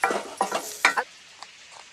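Spices sautéed and stirred in a pan, three quick scraping strokes close up at the start, then a quiet tail with one small clink.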